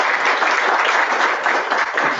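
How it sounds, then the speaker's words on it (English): An indoor audience at a talk claps in sustained, dense applause that stays loud and even throughout. "Start with a round of applause."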